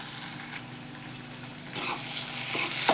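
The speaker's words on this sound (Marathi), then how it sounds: "कांदा परतू देते जरा, कोथिंबीर घालते, आणि हे शेंगदाणे, मी भाजलेले शेंगदाणे ते घालते." Onion, coriander and roasted peanuts sautéing in a pan, a soft steady sizzle that swells louder and brighter partway through, with light stirring and no talk.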